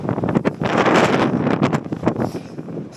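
Strong winter storm wind on Blencathra mountain in fog, loud gusting roar buffeting the microphone continuously, surging and easing in rough waves with no voices.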